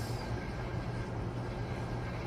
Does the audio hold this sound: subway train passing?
yes